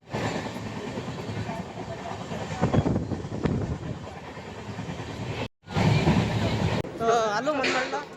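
Interior of a moving passenger train, a steady dense rumble filling the cabin throughout, broken by one brief cutout, with voices talking over it and some faint higher tones near the end.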